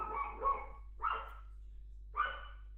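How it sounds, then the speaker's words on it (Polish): A small dog, heard over a phone call, lets out three sharp barks spaced about a second apart, with a faint steady hum between them. "Proszę uciszyć pieska, można prosić?"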